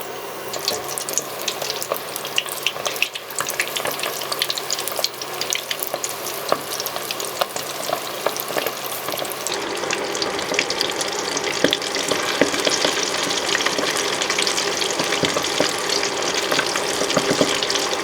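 Squid pieces frying in hot oil at about 187 degrees, a steady dense crackling sizzle that runs loud and unbroken throughout and grows slightly brighter partway through, with no talking.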